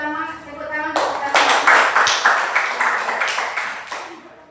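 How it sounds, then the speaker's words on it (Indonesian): A classroom audience claps after a student debate, a burst of many hands starting sharply after a voice and tapering off over a few seconds. "Beri tepuk tangan untuk kita."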